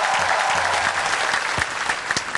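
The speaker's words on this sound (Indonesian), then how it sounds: "tepuk tangan yang paling kencang buat Pak JK." A studio audience on an Indonesian talk show claps loudly for Pak JK, a dense, steady burst of applause with a few sharper individual claps standing out near the end.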